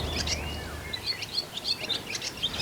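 Barn swallow calling near a farm, a series of faint high chirps and twittering notes over soft background noise.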